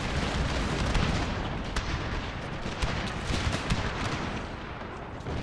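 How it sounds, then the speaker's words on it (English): Enemy musket and artillery fire in a Thirty Years' War battle in a Total War game roars as dense, continuous crackling volleys with scattered sharper reports, loud and unbroken, with no talking. "General unit might not be just right there behind the enemy as they're shooting at us."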